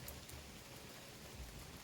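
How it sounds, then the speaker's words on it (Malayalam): Soft, steady rain patters in the background, a faint even hiss with no voices. "നല്ല ചാറ്റൽ മഴ"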